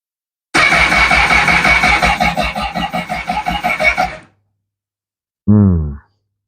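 Motorcycle that has stood unused for about two years cranking on its starter without catching; a loud, close, rhythmic churning for several seconds, then silence and a short, faint tonal burst.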